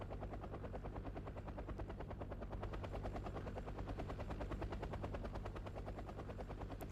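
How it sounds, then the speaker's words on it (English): Military helicopters in the strategy game Wargame Red Dragon, set in a Korean War scenario, throb with a continuous rapid rotor chop, steady and fairly close, with no talking. "Look at the pretty helicopter."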